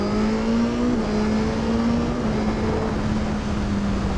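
A 2021 Suzuki GSX-S1000 naked motorcycle pulls hard under steady engine drone, with a brief dip as the quick shifter snaps up a gear before the note settles and continues, loud and close.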